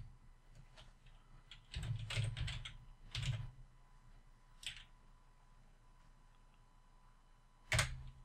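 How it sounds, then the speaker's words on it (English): Keys on a computer keyboard are pressed several times, faint soft clicks in a quiet room, ending with one louder single keystroke like an Enter press. "Gotta press enter first."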